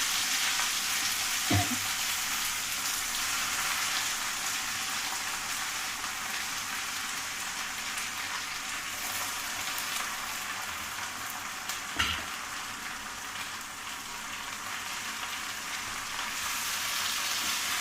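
Gongura leaves frying in a hot pan in a village kitchen, a steady close hiss of oil with a couple of brief knocks, no talk over it.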